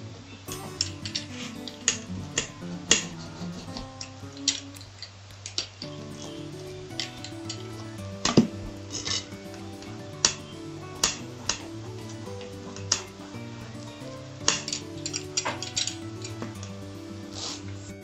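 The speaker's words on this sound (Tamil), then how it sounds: "அடுப்பில் இப்போ வச்சு ரக்கின பீட்ஸாவை இப்போ நான் கட் பண்ணி பார்க்க போகிறேன்." A homemade pizza baked on a stovetop is being cut. Sharp ticking clicks and clinks of the blade on the pan repeat irregularly over steady background music.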